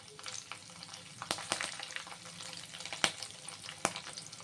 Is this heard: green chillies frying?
yes